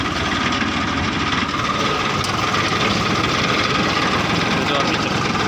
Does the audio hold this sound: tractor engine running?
yes